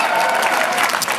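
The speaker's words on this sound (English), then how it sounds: "so you can reward them with their applause" Audience applause at a New York City mayoral event honoring officials, steady dense clapping filling the short stretch at full loudness with no speech.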